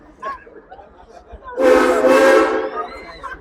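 Frisco Silver Dollar Line steam train at Silver Dollar City sounding one loud whistle blast of about a second, framed by faint crowd murmur before and after.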